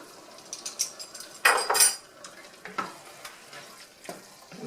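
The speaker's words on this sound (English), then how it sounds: "So let's put our water in there." Water poured into a sizzling pan of sloppy joe mixture sets off a loud burst of hissing and bubbling, followed by softer sizzles and the clink of a utensil stirring.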